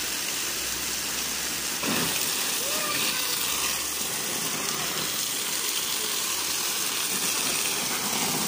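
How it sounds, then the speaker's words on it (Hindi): Water runs and drains steadily out of holes in the bottom of a plastic bag while coriander is washed, a continuous close splashing gush that stays soft and even throughout. "इस थैली में पानी डाल देकर नीचे से ना सुराख रखे हैं, नीचे से पानी निकलता रहेगा।"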